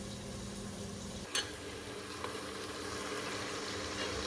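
Garlic ginger paste hitting hot oil in a pan while making biryani: a steady close sizzle and bubbling fry throughout, with a brief clink partway through and no voices.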